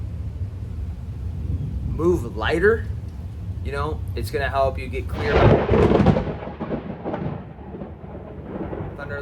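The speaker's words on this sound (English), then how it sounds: "Thunder and lightning coming in." Thunder from an approaching thunderstorm rumbles low and deep beneath a person talking, swelling to a louder roll midway before easing off.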